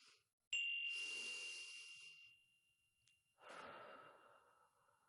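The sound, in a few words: chime for a breathing exercise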